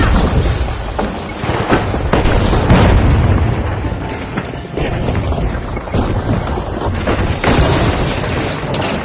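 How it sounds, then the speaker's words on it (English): A goo grenade going off in the shooter The Finals, booming bursts in a dense, loud stream of combat noise that runs the whole time. "Throwing some goo. Goo grenade out."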